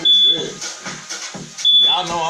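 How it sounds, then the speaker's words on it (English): A smoke alarm in a home kitchen gives shrill, high beeps during cooking, one near the start and another later, with people's voices in between and over them. "Ooh, the alarm is going off."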